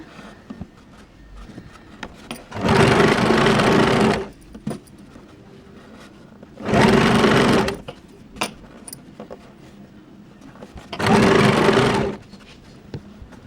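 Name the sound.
sewing machine stitching fabric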